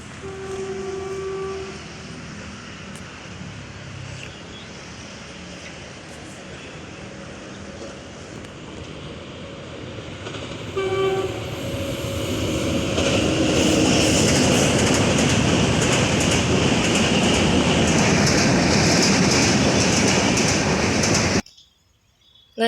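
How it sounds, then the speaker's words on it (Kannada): A train approaches and passes, its rumble swelling into a loud, sustained roar before cutting off abruptly; no voices. "ಟ್ರೈನ್ ಬಂತು"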